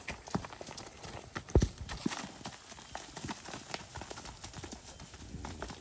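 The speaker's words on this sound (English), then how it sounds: "the horses stay much calmer in the woods" Horses walking through woodland during a training ride, their hooves clip-clopping in a steady, uneven rhythm at close range with faint rustling around them.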